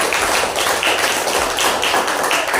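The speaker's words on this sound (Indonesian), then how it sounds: "sekali lagi tepuk tangan untuk kelompok 4." A classroom group claps for group 4 after a presentation, with dense, even clapping that holds steady and fairly loud for the whole short stretch.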